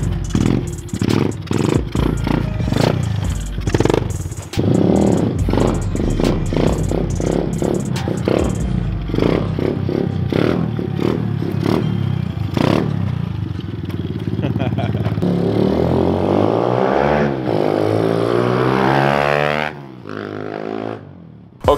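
2020 Kawasaki KLX 110 pit bike fitted with a Pro Circuit T6 exhaust and UNI air filter, revving hard in repeated loud throttle blips, then rising in a long sweeping rev before cutting off, with people talking over it.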